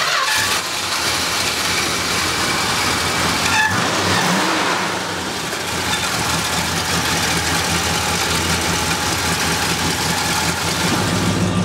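A 1970 Dodge Charger R/T with a 440 engine idling, a close, loud and steady rumble with a slight surge and dip in the middle, running continuously with no talk.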